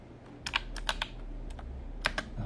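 Fingers tap quickly on a computer keyboard, giving a light, uneven run of close clicks in small bursts over a faint steady background hum, with no voices.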